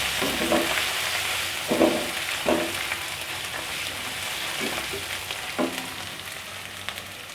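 Chicken sizzles and crackles steadily in a hot pan, with a few louder stirring scrapes and bursts of spatter, no talking.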